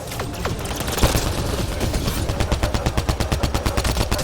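Loud weapon fire in the sci-fi shooter Mass Effect: Andromeda: scattered shots at first, then a fast, regular automatic burst that rattles on without pause.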